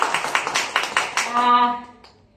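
Audience applause at a gathering, a short burst of clapping that quickly fades, followed by a brief sustained tone.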